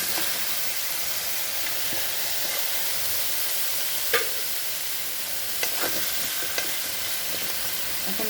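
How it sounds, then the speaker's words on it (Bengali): Sweet potato pieces fry in a pan with chilies over a high flame. A constant loud sizzle and hiss fills the scene, broken by a few soft clicks of stirring. "এখন এটা একটু ভাজতে দেবো"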